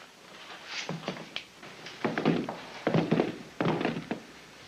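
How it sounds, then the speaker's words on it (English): Several heavy wooden thunks and knocks, like guns being set down on a wooden saloon bar in a 1966 Western, coming in irregular bunches at close range with no voices over them. "Put your guns up on that bar."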